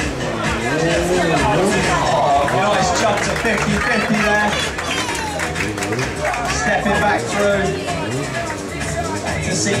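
Spectators at a motorcycle freestyle stunt show at the Ace Cafe, with wheelies, stoppies and drifting, produce steady clapping and cheering crowd noise, loud and continuous throughout, mixed with babble and an announcer talking over it.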